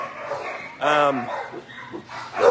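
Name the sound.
dog barking in shelter kennels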